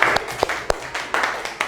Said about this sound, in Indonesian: Tepuk tangan buat Gundika.